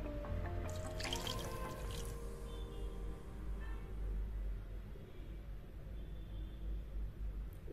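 A cup of water is poured into oats while masala oats are being made. It makes a steady, soft splashing trickle that stays fairly faint and even, with no talking.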